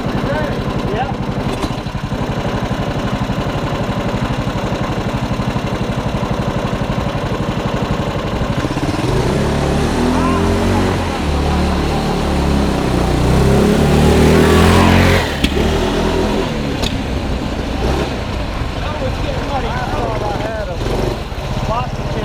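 A 420cc gas-engine golf cart runs close by, its small engine droning steadily and then revving harder as it accelerates around the middle before easing back, with people talking over it throughout.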